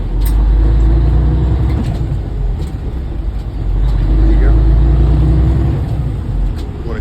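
A truck with a 10-speed manual transmission drives through an intersection in bad weather, its engine droning loud and low, dipping briefly at a gear shift and then pulling again, with a voice talking over it.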